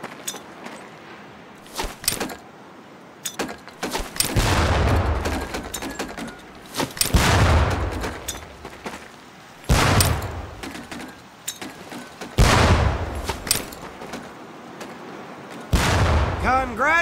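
Training grenades burst one after another in Medal of Honor Pacific Assault, several loud booming blasts spaced a few seconds apart, each with a rolling tail, with a voice briefly heard between them.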